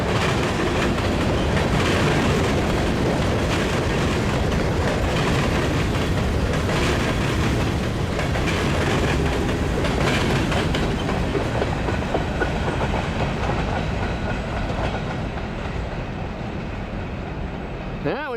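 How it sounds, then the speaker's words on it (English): A westbound CN freight train rolls loudly through a rail junction close by, a continuous roar of wheels with rhythmic clickety-clack from the passing cars, fading slightly near the end. "the Iowa Northern should be leaving shortly after this westbound CN clears the junction"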